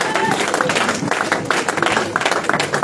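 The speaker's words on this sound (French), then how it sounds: "Acclamez très fort le Seigneur" A church congregation applauds and cheers together, a dense, steady wash of clapping and voices filling the room for a few seconds.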